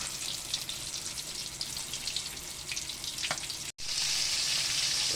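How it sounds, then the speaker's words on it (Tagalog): Steady crackling sizzle of milkfish (bangus) frying in hot oil, continuous and close, with a brief dropout near the end before the sizzling resumes. "I-prito na lamang po natin yan."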